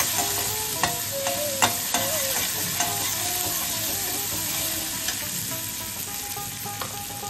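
Ginger paste and turmeric sauté in oil for mung dal, making a continuous close sizzle punctuated by frequent light spatula scrapes and clicks against the pan.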